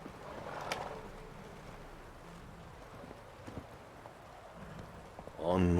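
Horse hooves clip-clop faintly in the game The Witcher 3, soft intermittent steps under background ambience, with a voice briefly heard near the end.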